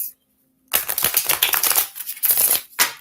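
A deck of tarot cards is shuffled by hand: a quiet pause, then a dense run of papery riffling and slapping bursts that fill the rest, close and fairly loud, with no voice.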